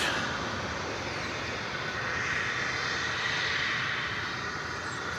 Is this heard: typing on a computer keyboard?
no